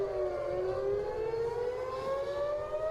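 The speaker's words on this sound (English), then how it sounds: "But listen to those sirens going off." Civil defense sirens wail steadily and continuously, a layered rising tone that fills the whole stretch with no voices over it.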